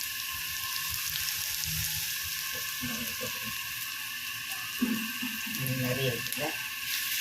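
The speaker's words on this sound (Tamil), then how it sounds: "வெங்காயம் வதங்கிட்டு இந்த இஞ்சி பூண்டு போட்டுக்கிறோம்" Stone-ground ginger-garlic paste sizzles in a pan with sautéed onions for a liver gravy, a steady hiss and crackle with bursts of bubbling while someone talks over it.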